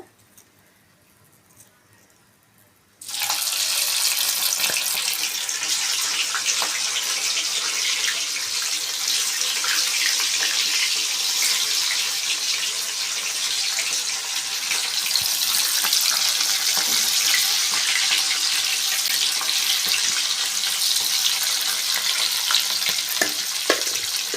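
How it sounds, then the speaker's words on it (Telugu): Chicken pakoda pieces, already fried once, go back into reheated hot oil for a second fry, setting off a loud, steady, dense sizzle that starts abruptly after a few quiet seconds and continues evenly without talk. "ఇప్పుడు మనము ఫస్ట్ కాల్చుకున్న చికెన్ పకోడాని దీంట్లో వేసుకుందాము"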